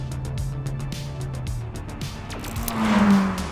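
A rally car engine from the video game Sega Rally Championship drones steadily with tire squeal and revs rising near the end, sounding synthetic and game-like with rhythmic clicks.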